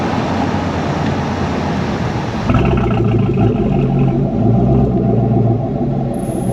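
Chevrolet Silverado with a 5.3 V8 and AWE exhaust, cylinder deactivation (DFM) on, gives a steady, loud, deep exhaust rumble that swells slightly midway, close by with no talking.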